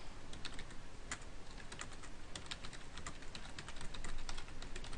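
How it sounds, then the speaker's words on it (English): Typing on a computer keyboard makes quiet, close, rapid key clicks in uneven bursts, continuing throughout with no talking. "And I can type on it as well."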